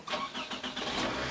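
A car engine, freshly cleaned after hard starting, cranks briefly and fires at once, catching into a steady mid-pitched idle; close, alone and fairly loud over just over a second.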